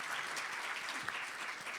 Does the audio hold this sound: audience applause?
yes